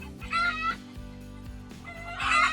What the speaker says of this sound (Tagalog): Nabulabog na naman ang mga manok na ito.